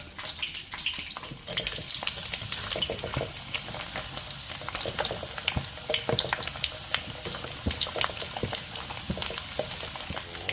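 Pork and fish sizzle in hot oil as they fry until golden, a steady dense crackle with sharp pops and spatters throughout, close and continuous with no talking.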